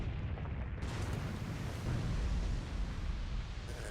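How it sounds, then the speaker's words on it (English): Artillery ranging shots in the war game Graviteam Tactics land as a dense, rumbling roar of explosion noise that holds for several seconds, with no speech over it. "We'll give them one or two more ranging shots, so that we've got this area zeroed"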